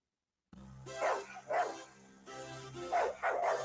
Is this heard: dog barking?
yes